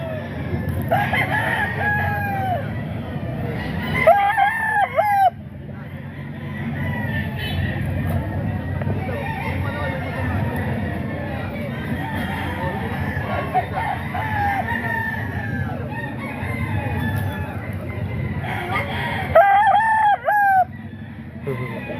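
Roosters crow repeatedly at a busy chicken sale in Grotto, with loud clucking fowl and steady crowd chatter and speech throughout, and sharper crows rising around the start, middle and end.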